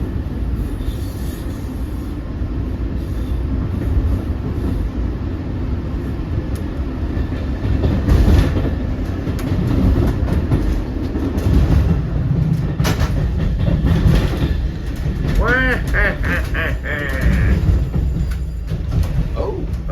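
A Long Island Rail Road train pulls into Hicksville station, its steady rumble and rail clatter loud and close, with sharp wheel squeals rising near the end.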